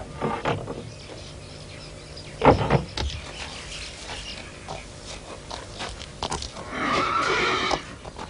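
A pony neighs and whinnies in a stable setting, one loud whinny burst mid-clip and a longer nasal call near the end, with hoof shuffles and scattered handling noises around it.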